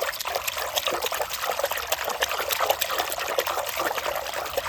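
Washing soda is stirred into water in a small bowl, giving a continuous close sloshing and trickling wash of liquid with no voices.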